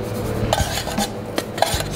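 Spoon clinking and scraping in a bowl while mixing pancake batter ingredients, with scattered metallic taps and rubbing strokes at close range, no talk.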